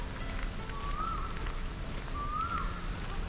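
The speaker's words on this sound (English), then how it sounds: "It's just like a heavy drizzle," Heavy drizzle falling steadily on a day hike at Coney Island, Singapore, a constant soft patter of rain with two faint bird whistles in the background.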